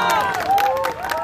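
Pageant audience at a Miss Carnaval event in Huánuco clapping and cheering loudly and steadily, a dense crowd roar with sustained whistling-like tones rising and falling above it.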